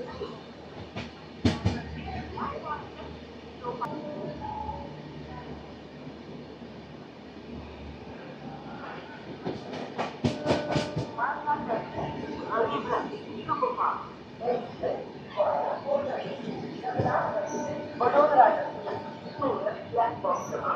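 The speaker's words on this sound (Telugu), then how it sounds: "ఇండియాలోనే one and only train which can have push pull" A push-pull Rajdhani train moves through Hazrat Nizamuddin railway station, a rumbling rail noise with clattering bursts and metallic squeals, loudest in the middle and toward the end, while voices talk over it.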